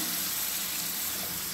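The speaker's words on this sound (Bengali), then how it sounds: "এবার জল দিয়ে দিলাম।" Chicken kosha sizzling hard in a pan, with a dense, steady hiss up close that holds unbroken for a moment.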